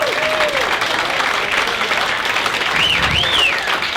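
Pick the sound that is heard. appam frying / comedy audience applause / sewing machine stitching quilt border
comedy audience applause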